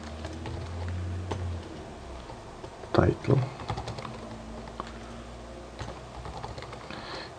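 Keystrokes on a new laptop keyboard, a steady light clatter running through the whole stretch with a louder burst partway through, heard close alongside a person speaking.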